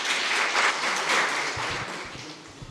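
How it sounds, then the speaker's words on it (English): Audience applause at a peace, security and justice symposium in Musanze, Rwanda, following a Rwanda National Police presentation on community-based policing; a full wash of clapping that swells, then thins and fades toward the end. "A round of applause, please"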